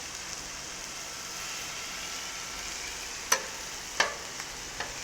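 Steak, onions and peppers sizzling on a 360 XL griddle, a soft, steady frying hiss with a few sharp scraping clicks from a spatula toward the end.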